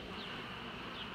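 Honeybees buzz steadily and densely during a beehive inspection, a close, continuous hum filling the whole moment with no voices.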